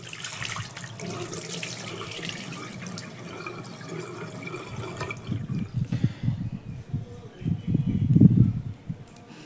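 Water runs from a tap to soak a dry cotton towel. It makes a steady splashing rush that thickens toward the end, with some low household clatter mixed in.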